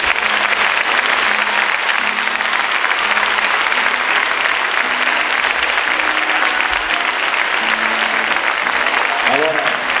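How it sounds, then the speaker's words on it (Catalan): Audience giving a long, loud round of applause at a Christmas school concert, dense and continuous clapping filling the whole stretch with no break. "començant per la Martona, que us demanaria un grandíssim aplaudiment"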